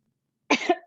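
A sharp, close cough bursts out twice in quick succession after a moment of silence.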